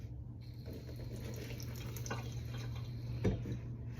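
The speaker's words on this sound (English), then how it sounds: "Add a little bit more water." Water running steadily from a tap and pouring over fresh celery for stuffing, a constant close splashing stream with a brief louder splash near the end.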